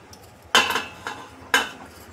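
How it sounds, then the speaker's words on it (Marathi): Jaggery dropped into melted ghee in a pan while making fenugreek laddoos: two sharp metallic clatters of a spoon against the pan with a softer knock between, close and distinct, no talking. "ह्याच्यामध्ये गूळ टाकते."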